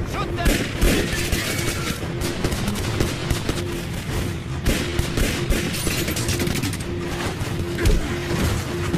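Gunfire in an action movie shootout, rapid dense bursts of loud shots and automatic fire continuing throughout, with shouting voices mixed into the din.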